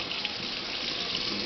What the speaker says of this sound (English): Ella, what are you doing with the water?